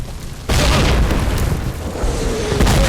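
A grenade explodes in the World War II shooter Call of Duty, a sudden loud boom at half a second followed by a sustained rumbling roar with debris and battle noise.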